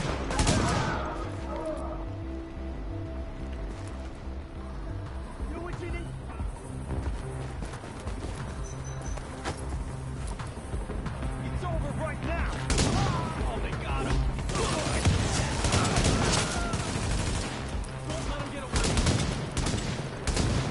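Rapid bursts of gunfire as non-player characters shoot each other in a video game, a sustained crackling fusillade with scattered louder shots, heard at a distance under intermittent talk from players.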